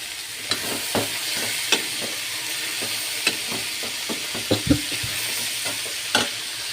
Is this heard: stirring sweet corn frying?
yes